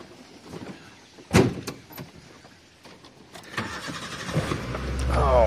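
A Maruti Gypsy sits outside while a sharp door-like thump is followed by quieter rattles, then the engine cranks and catches near the end, building into a steady, loud idle rumble.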